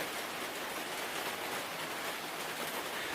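Freezing rain falls steadily, a dense, even hiss of drops that stays loud and unbroken throughout with no voices.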